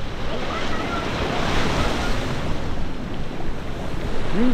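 Ocean surf breaks and washes continuously beside a boat ramp, a loud churning roar mixed with wind buffeting the microphone.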